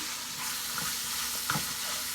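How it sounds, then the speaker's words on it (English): Pre-seasoned Italian sausage meat sautéing in a pan: a steady, close, dense sizzle with faint stirring scrapes, alone and continuous. "we're just gonna saute this sausage up"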